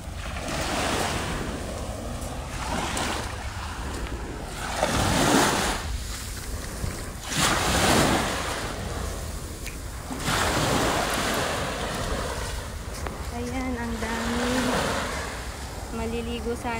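Sea waves surge and wash onto a beach in repeated swells, with wind buffeting the microphone and people talking now and then.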